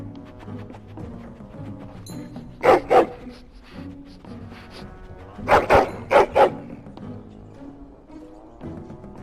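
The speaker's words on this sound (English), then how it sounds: "Just get the dog out of the larder," A dog in the video game Dragon Age: Origins barks in short bursts, first a double bark and then a rapid cluster of three or four barks, close and loud over low background music and ambience.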